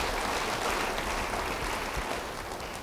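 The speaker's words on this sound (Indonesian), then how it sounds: "Yang setuju beri tepuk tangan bagi dia." A church congregation applauds, a steady, even wash of clapping that stays at a moderate level throughout and tapers only slightly at the end.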